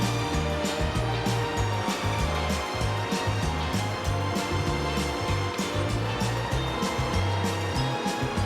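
A 700 watt EB55 Blue Eddy power tool sands down a damaged RV body, a loud continuous whirring drone with a steady pulsing rhythm running throughout at close range.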